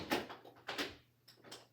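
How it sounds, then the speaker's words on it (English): A door being closed indoors, heard as a few short knocking and rattling bursts followed by a final softer bump, fairly close and without speech. "while I close the door"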